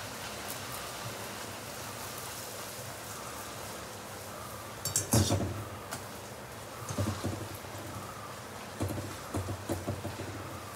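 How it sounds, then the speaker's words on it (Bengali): Luchi, a puffed flatbread, fries in hot oil with a steady, soft sizzling hiss. Louder bursts of crackling and bubbling come in the second half, each time dough meets the oil. "লুচিগুলো এখন ভেজে নিই"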